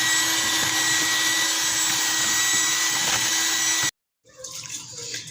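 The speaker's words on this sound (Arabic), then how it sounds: "انا هفضل اضرب كويس قوي لحد ما تديني اللون الكريمي" An electric hand mixer beats butter and sugar until creamy, a steady loud whir running continuously for about four seconds before cutting off, then a fainter rustling follows.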